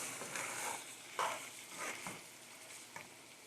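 Meat browns in a pan with a continuous soft sizzle as it is moved around, broken by a few quiet scrapes and shuffles of the stirring.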